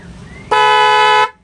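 A vehicle horn upgraded with a two-trumpet setup blasts on its first tone setting, one loud, steady, harmonically rich honk lasting under a second, close by and alone.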